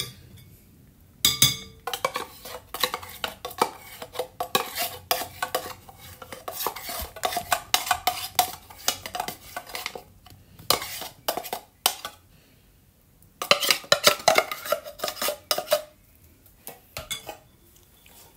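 Spoon clinking and scraping against a bowl while stirring condensed and evaporated milk with corn for maja blanca, a steady run of close metallic taps and chinks with a few brief pauses.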